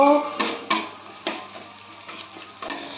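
Chili powder, turmeric and salt are sautéed in a pan for a potato and rohu fish curry: a soft frying hiss continues under a few scraping stirs and light clinks of a spoon, close up.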